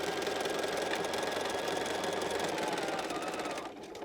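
Sewing machine stitching satin binding onto a lush velvet blanket, a fast steady mechanical chatter running continuously at close range before slowing and easing off at the end.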